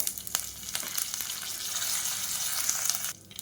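Whole spices and curry leaves fry in hot groundnut oil, giving a steady close sizzle with a few sharp crackles and pops before it drops away abruptly near the end.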